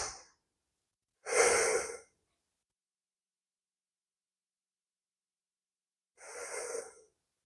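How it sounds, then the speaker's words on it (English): Deep, slow breaths taken during a grounding yoga pose, two long breathy exhalations about five seconds apart, close and quiet in an otherwise silent room. "Deep breaths here."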